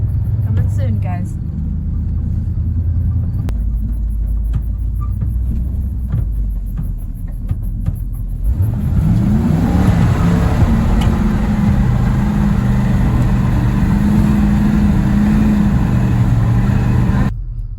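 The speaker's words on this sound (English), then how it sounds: "I still have it in drive at an idle and it's still going. It's stumbling a little bit" An old truck engine idles in drive, stumbling slightly, with a loud, steady low rumble that shifts in tone partway through.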